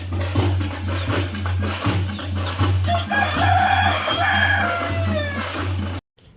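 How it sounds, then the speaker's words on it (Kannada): Household rooster crowing during a village festival, a loud drawn-out cock-a-doodle-doo rising over a steady low mechanical hum, with clucking fowl around it, close by. "ನಮ್ಮ ಮನೆ ಕೋಳಿಗೆ ಟೈಮಿಂಗ್ಸೇ ಇಲ್ಲ ಯಾವಾಗ ಬೇಕಾದರೆ ಅವಾಗ ಕೂಗ್ತಾನೆ ಇರುತ್ತೆ"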